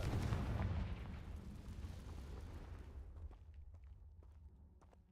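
A Confringo fire-blast spell erupts in a Harry Potter video game with a loud booming burst at the start, then a rumbling roar that slowly fades over several seconds, with faint crackles and ticks trailing behind.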